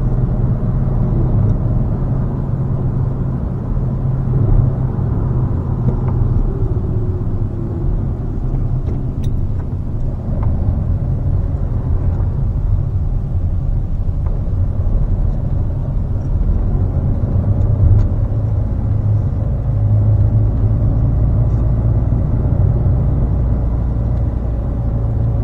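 A Fiat Panda 4x4 drives along a country road at about 30 miles an hour, its engine and road noise forming a steady, close, low rumble that holds throughout with no speech.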